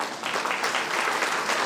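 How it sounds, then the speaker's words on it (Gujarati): Audience applause at a community gathering, steady broadband clapping filling the short stretch at a constant level with no voices. "ફરી એકવાર જોરદાર તાળી"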